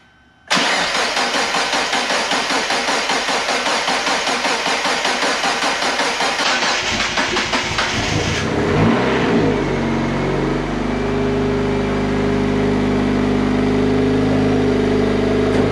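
A turbocharged Mazda Miata with a BP4W head swap cranks and fires after a moment of quiet, then revs loudly and settles into a steady, rumbling idle, close by and without speech.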